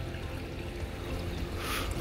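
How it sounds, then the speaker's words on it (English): Water runs steadily from a freestanding waterfall jacuzzi tub in a luxury model home, a soft continuous pouring wash that brightens slightly toward the end. "you have that freestanding waterfall jacuzzi tub"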